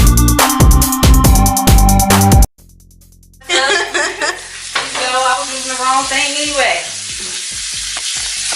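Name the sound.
stirring Rice Krispy treat mixture with a butter spatula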